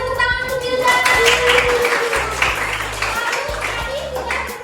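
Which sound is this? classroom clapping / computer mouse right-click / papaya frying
classroom clapping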